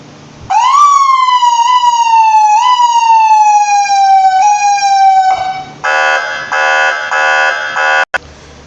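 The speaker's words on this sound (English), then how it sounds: "This vehicle was also fitted with our 100-watt Undercover Siren." A 100-watt undercover siren on a funeral lead car wails loudly in long rising-and-falling sweeps, then switches to a rapid pulsing yelp before cutting off abruptly.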